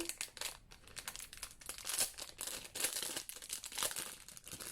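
Plastic packaging around a set of dice crinkles and crackles up close in quiet, irregular bursts of handling for several seconds, with no talking.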